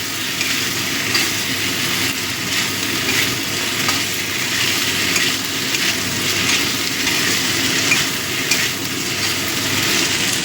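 A spicy curry of batashi and tangra fish fries on a low flame in a pan, giving a steady, even sizzle with faint stirring scrapes, and no voices.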